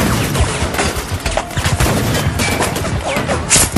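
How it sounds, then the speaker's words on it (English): Small arms fire mixed with RPG blasts, a dense, loud fusillade of overlapping gunshots and heavy booms that keeps going without a break. "Taking small arms and RPG fire, 300 meters north of my position"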